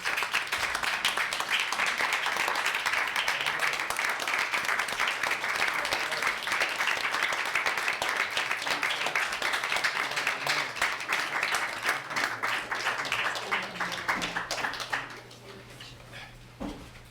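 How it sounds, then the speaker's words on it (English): A city council chamber audience gives a standing round of applause, with loud, dense, continuous clapping for about fifteen seconds before it abruptly dies away to a quiet room. "I think that deserves a standing round of applause if we can do better than that"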